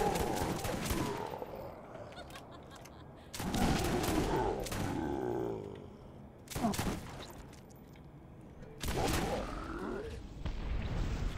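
Shotgun gunfire in the Borderlands video game, from a Vladoff-made shotgun: four loud, heavy blasts spaced a couple of seconds apart, each with a rumbling tail, over a constant game backdrop.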